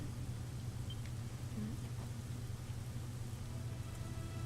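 Steady, even hiss of rain falling in the Dragon Quest XI role-playing game, a continuous wash with a low ambient hum underneath and no distinct drops standing out.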